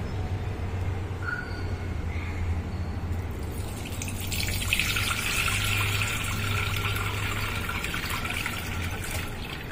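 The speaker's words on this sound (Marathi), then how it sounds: "पूर्ण पाणी नितळायला घेऊया।" Water draining from soaked rice through a cloth laid in a sieve over a pot while making anarasa, a steady trickle and drip that grows brighter and fuller partway through, close by with no talk.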